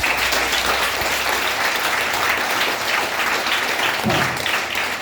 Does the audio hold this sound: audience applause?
yes